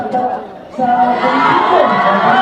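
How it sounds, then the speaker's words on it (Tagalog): A large crowd shouts and cheers at a gathering in Lanao del Norte, Mindanao: a loud, continuous roar of many voices, briefly dipping then swelling stronger and holding steady. "Oh, sigawan mga tao."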